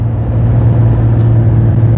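Cars rushing past a GMC 1500 pickup with a 3.0L engine towing a trailer at about 50 mph on a highway: a continuous loud road and wind roar with a brief whoosh of passing traffic, no talking.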